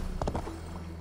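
A horse's hooves in the Assassin's Creed Valhalla video game give a quick cluster of faint clip-clop thuds, then fade under a soft ambient bed.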